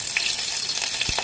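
Hot oil sizzling steadily in a bowl on a stove, tempering for a mango chutney, with a constant hiss and a few soft crackles and pops close by, no talking.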